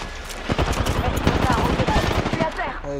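Rapid automatic gunfire in a first-person shooter video game, loud close bursts of rattling shots running nearly continuously, with a voice talking over it.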